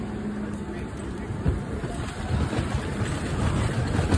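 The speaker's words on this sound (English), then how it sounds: "I hate riding on cobblestone." Riding over a cobblestone road, heard as a steady rough rumble with wind buffeting the microphone and a slight rattle, loud and continuous, growing a little stronger toward the end.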